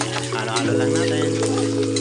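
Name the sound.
onion being stirred while frying in pan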